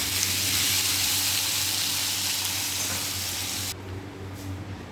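Potatoes frying in a pan with a little turmeric give a steady, dense sizzle that runs evenly, then drops off abruptly near the end, with no talking.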